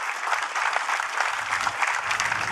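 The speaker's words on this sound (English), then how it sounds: "So I think perhaps a round of applause for these kids and what they've been trying to do." Audience applause for a group of children at a driving event, a steady dense patter of many hands clapping throughout, fairly loud and without speech.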